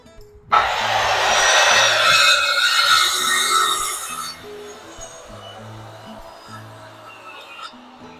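A power saw whines loudly through wood for a deck for a few seconds, then cuts off, leaving a quieter background with a low rhythmic mechanical hum.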